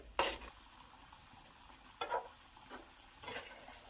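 Amla and other hair-oil ingredients cook in coconut oil in a pan, with a few scattered scraping stirs and a soft background sizzle. The bursts are short and fairly quiet, with gaps between them.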